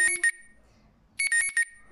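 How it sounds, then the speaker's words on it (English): A phone alarm marks the end of an interval in a home workout, sounding two quick clusters of rapid, high electronic beeps separated by a short pause, with no talking. "This is my alarm telling me it's finished."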